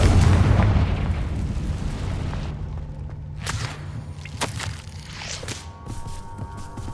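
A Confringo fire spell goes off in Hogwarts Legacy: a heavy booming blast at the start, then sharp whip-like cracks and whooshes over a low rumbling game backdrop.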